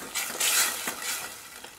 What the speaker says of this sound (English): And stir that up. You can turn the heat down a little.